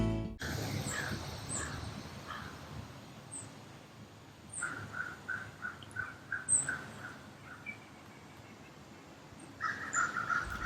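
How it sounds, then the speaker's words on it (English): Crows cawing and birds calling around a quiet residential neighborhood, a few scattered calls at first, then a string of repeated caws midway and another burst near the end, moderately close with soft ambient background. "Listen to the birds calling."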